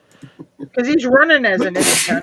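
Someone talking is cut off by a sharp, hissy sneeze that bursts out near the end, close to the mic.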